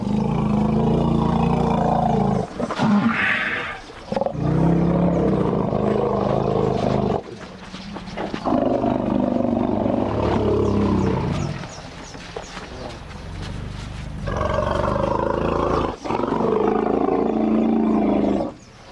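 Orphaned elephants in the African wild give deep, low-pitched greeting rumbles as young ones return home, several long sustained calls with brief breaks, close and loud with no talk.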